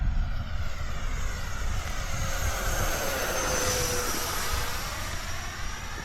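An FMS F-16 RC jet with a 64mm twelve-blade ducted fan flies past a runway, a steady loud rushing whine with a rising and falling pitch sweep as it passes, continuous for several seconds with no talking.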